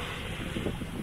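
Wind in about 17 knots blowing over a sailboat cruising along the French Mediterranean coast, a brief low buffeting rush against the microphone with a soft wash of sea beneath it.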